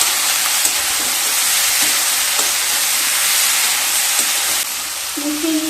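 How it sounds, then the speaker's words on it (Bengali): Vegetables such as potato and ridge gourd fry in oil with salt and turmeric while being stirred, giving a loud, continuous sizzle broken by occasional scraping strokes of the spatula. "এবার সমস্ত উপকরণগুলোকে খুব ভালোভাবে মিশিয়ে নেব।"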